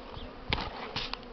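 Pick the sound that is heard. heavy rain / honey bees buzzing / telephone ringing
honey bees buzzing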